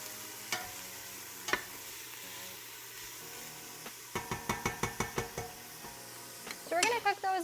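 Onions fry in a pot over slightly lowered heat with a soft, continuous sizzle. A quick run of spoon knocks against the pot cuts through it, followed by louder scraping and stirring at the end.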